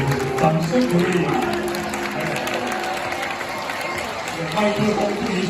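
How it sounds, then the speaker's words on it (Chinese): Audience applause at a year-end banquet held by Taiwan's National Immigration Agency, following a singer's song. Broad, steady clapping and crowd noise carry through the whole stretch, with faint music or voices faintly beneath it. "谢谢，掌声鼓励。"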